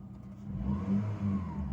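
A Mk4 VW Golf engine revs up, its pitch climbing and falling in a couple of smooth swells, steady and close with no talking.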